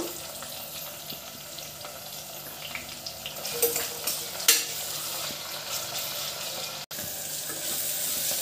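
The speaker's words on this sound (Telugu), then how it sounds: "ఇప్పుడు ఉల్లిపాయలు మగ్గినాయి కదండి" Onions frying and being stirred in a pan during mutton curry preparation, a soft continuous sizzle with scattered scraping and clinking of the spoon, moderately close and fairly quiet.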